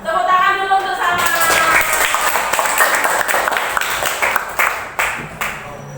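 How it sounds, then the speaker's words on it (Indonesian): A classroom crowd bursts into steady applause, many hands clapping together at close range before it thins into a few scattered claps. "Tepuk tangan dulu untuk Salman"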